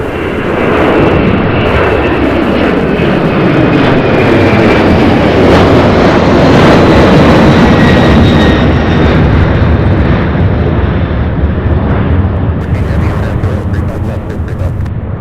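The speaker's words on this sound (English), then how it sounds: "So we have an A300 here heading to Charlotte" Airbus A300 jet departing, a loud close roar of engines at takeoff thrust that sweeps past with a falling whine and a high tone, sustained throughout and slowly fading at the end.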